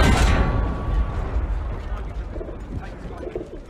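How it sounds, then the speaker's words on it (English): A battlefield artillery salvo from the Battlefield 1 campaign, a loud booming blast at the start that decays into rumbling and rattling, with voices faintly under the noise. "All artillery! Fire!"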